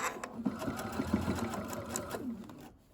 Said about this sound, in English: And we will stitch, feeling for the fabric to make sure there's nothing else tucked under the needle there.